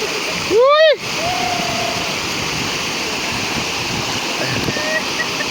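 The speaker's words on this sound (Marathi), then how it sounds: "हा बघा पडला बघा धबधबा" Continuous roar of a waterfall at a sightseeing spot, a dense steady rush of falling water, with a short whistle-like tone near the start riding over it.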